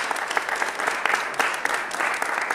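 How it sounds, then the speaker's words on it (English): Applause for Philadelphia Councilman Curtis Jones at a city gun violence report event, a steady patter of many hands clapping in a room, moderately loud and even throughout with no voices over it. "Give him a round of applause"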